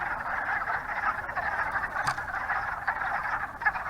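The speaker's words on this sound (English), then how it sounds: "There are lots of frogs, as you can hear right now." Many frogs call together outdoors on a fine day, their overlapping croaks forming a steady, unbroken chorus, with one brief sharper click partway through and no voices.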